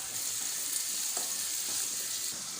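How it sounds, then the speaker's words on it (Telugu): Onions, green chillies and bay leaf fry in hot oil with a continuous, moderately quiet sizzle and occasional soft stirring scrapes, with no talking. "ఆనియన్స్, మిర్చి, బిర్యానీ దాన్ని బాగా గోల్డ్ కలర్ వచ్చేంత వరకు వాటిని మనం ఫ్రై చేసుకోవాలి."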